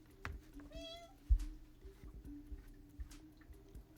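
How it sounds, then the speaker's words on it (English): A pet cat gives a single rising meow in a quiet home, with a soft thump and faint room noise around it. "Oh, now she meows."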